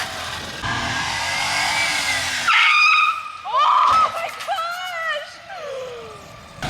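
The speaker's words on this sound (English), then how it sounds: "Mini truck test drive." Tires on a mini truck skid and squeal in several sharp bursts during a test drive, loud and close, broken by short gaps and engine noise.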